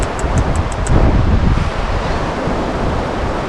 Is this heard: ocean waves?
yes